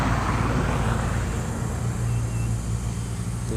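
A school bus passes along a rural road in Ipswich, a steady low engine rumble and road noise holding close and fairly loud throughout, with no clear rise or fall.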